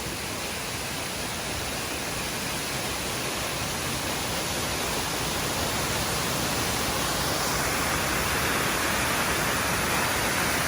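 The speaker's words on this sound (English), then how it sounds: "made it to Foaming Falls. It's a really cool waterfall." Foaming Falls, a tall two-tiered waterfall in Tasmania's Huon Valley, gives a constant, dense broadband roar of falling water that stays unbroken and even throughout, with no voices.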